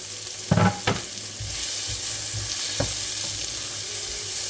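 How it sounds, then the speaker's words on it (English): Diced onion sizzles in hot oil in a pan for meatballs in tomato gravy, a constant close hiss with a couple of scraping stirs near the start and one later, no voices. "So cook the onions until they are nice and soft."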